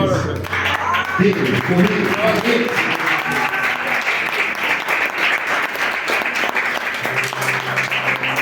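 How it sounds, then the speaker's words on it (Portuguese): A church congregation claps together for a man named Guilherme, sustained applause mixed with voices and some singing or sung tones underneath, fairly loud and close. "Também pode aplaudir o seu Guilherme."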